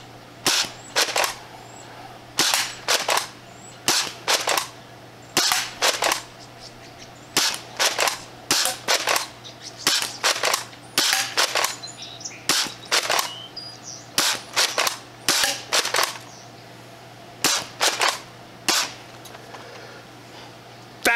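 Dart Zone Nexus Pro X foam dart blaster firing in quick bursts of sharp snapping shots, several per burst with short pauses between, loud and close, with occasional quiet talk.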